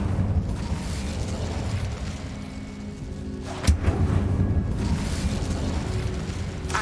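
Incendio fire spell cast in the video game Hogwarts Legacy, a sudden whooshing burst over a steady low rumbling roar, with a few lighter pops trailing after it, close and moderately loud, no talk.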